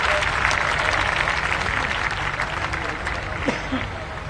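Audience applause greeting young athletes at the closing ceremony of the Khelo India University Games, a dense wash of clapping lasting several seconds, loud and steady, with a voice over it.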